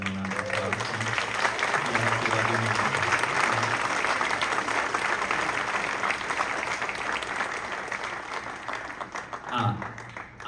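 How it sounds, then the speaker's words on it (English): An audience at a school fall concert breaks into sustained applause, a dense wash of clapping that swells and holds for several seconds before tapering off, with a voice coming in near the end. "you can give them a round of applause"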